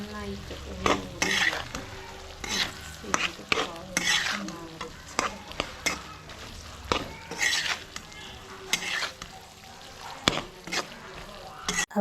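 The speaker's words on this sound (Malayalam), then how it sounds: "പിന്നെ നമ്മുടെ അച്ചാർ പൊടിയും കൂടി ചേർത്തിട്ട് ഇത് നന്നായിട്ടൊന്ന് മിക്സ് ചെയ്ത് കൊടുക്കുന്നുണ്ട്." Wild mango pickle is stirred in a pan with pickle powder, a utensil scraping and clacking in irregular bursts over a low sizzle, close and fairly loud.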